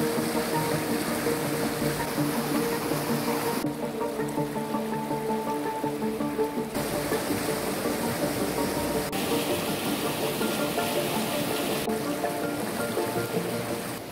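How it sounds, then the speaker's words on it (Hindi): Fast-flowing monsoon river at an expressway construction site with a wildlife corridor, a steady broadband roar of rushing water, loud and continuous with no voices. "नदी का शोर गूंज रहा है।"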